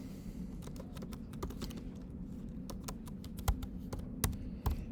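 Keys clatter on a computer keyboard in quick, irregular bursts, with a few sharper taps standing out near the end over a low steady room hum.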